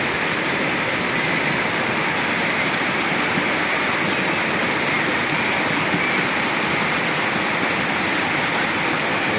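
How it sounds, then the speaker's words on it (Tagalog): Heavy rain from a typhoon pours down in Mindanao in a dense, unbroken roar, steady and loud throughout with no pauses. "Grabing lakas ng ulan mga idol."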